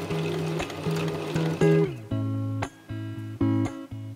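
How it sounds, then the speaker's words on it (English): A sewing machine stitches felt pieces onto dress straps in several short bursts, each a rapid mechanical whir that stops and restarts, heard up close with no talking. "and I sewed over a few times."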